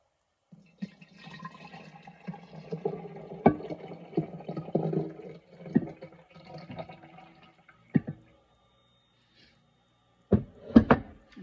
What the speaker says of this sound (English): We'll just pour off the buttermilk into this jar.